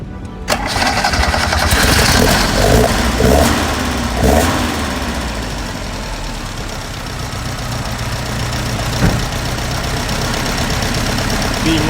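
A 1971 Alfa Romeo 2000 GTV Coupe engine cranks, catches, and revs loudly, then settles into a rough, steady idle, with faint voices in the background.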